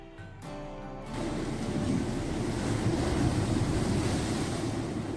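Ocean waves from a real seaside recording wash in a steady, full roar of surf after a brief quieter start, continuous and close with no voices.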